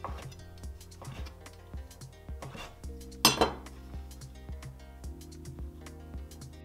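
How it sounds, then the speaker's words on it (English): A knife hand-cuts udon noodle dough on a board, making a series of crisp, evenly spaced taps and knocks up close, with one brief louder clatter midway and no talk. "cut your dough into 1/2 centimeter wide noodles"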